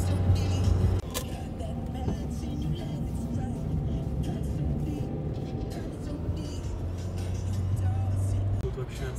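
A car drives over the Gotthard Pass in the Swiss Alps, heard from inside as a steady low engine and road rumble that carries through the whole stretch, with a brief louder bump near the start.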